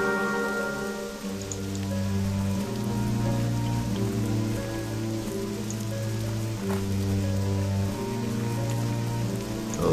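Steady rain falls through a World of Warcraft Cataclysm Worgen starting area, a continuous wash of drops laid over sustained low musical tones, with no talking.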